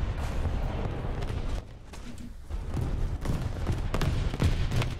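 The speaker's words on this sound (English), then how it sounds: "Oh, I forgot that we have machine guns." Sustained gunfire and heavy battlefield booms from a multiplayer war video game played in arcade mode, dense and continuous at mid distance, with a brief quieter lull partway through.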